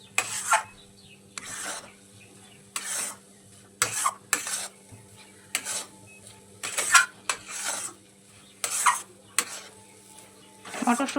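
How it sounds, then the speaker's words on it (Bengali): Pea paste being stirred in a pan until it dries, repeated scraping strokes of a spoon against the metal in a steady rhythm, close and moderately loud over a faint low hum, with no talk. "এরকম ক্রমাগত আমি নাড়তে থাকবো।"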